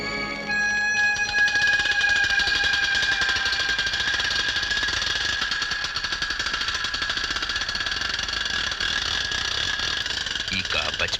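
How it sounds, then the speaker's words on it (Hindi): A winch cranking with a loud, continuous mechanical rattle, used as a film sound effect in a tense Hindi movie standoff, grinding steadily and close for about eleven seconds before stopping near the end. "और ये चरखी की आवाज, इसे तो पहचानते होंगे।"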